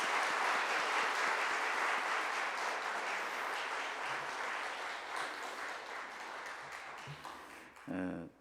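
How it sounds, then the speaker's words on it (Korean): A church congregation at a Sunday all-generations service applauds vigorously for a departing missionary family, broad sustained clapping that gradually thins out, with a few voices and a brief bump near the end. "인사하실 때 우리 박수로 힘차게."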